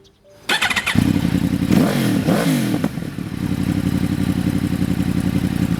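A 2012 Yamaha R1 motorcycle with a racing exhaust fires up and idles with a deep, loud burble, revving sharply a couple of times before settling back.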